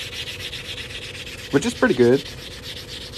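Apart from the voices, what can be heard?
sanding cut edge of silver half dollar ring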